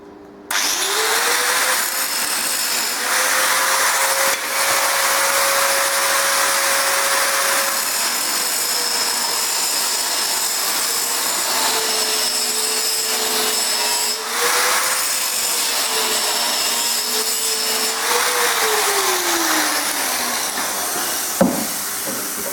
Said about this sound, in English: stand between you and the grinder so I don't spark me camera in, should cover me camera in sparks